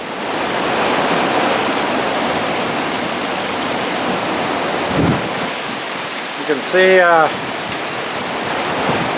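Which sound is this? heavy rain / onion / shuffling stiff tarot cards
heavy rain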